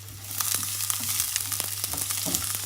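Chopped onion frying in a pan for Jamaican seasoned stir-fried cabbage makes a loud, steady sizzle broken by several stirring scrapes and knocks; no voices.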